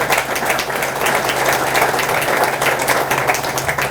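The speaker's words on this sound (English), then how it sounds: "Could you give a round of applause to my supporting roles," Audience applause at a Falcon Foundation Hall of Fame ceremony, a steady, moderately loud wash of clapping from many hands filling the hall for several seconds.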